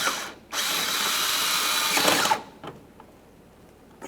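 A power drill or driver whirs steadily for nearly two seconds, tightening a bolt on a radiator cooling fan assembly of a GMC Acadia, followed by a few light metallic clicks and handling sounds.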